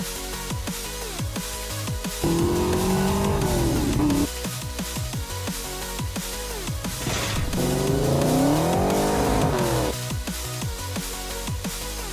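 A Fox-body Ford Mustang convertible's engine revs hard twice, rising and falling in pitch over a steady loud motor drone, with some tire noise in between.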